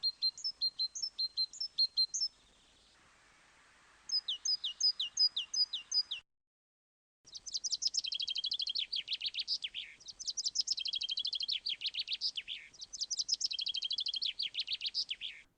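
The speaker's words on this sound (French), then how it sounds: "La mésange charbonnière." A great tit repeats its bright two-note see-saw phrase in quick, even series. A denser, busier run of chirping songbird phrases follows after a brief pause, all clean and close with no talking.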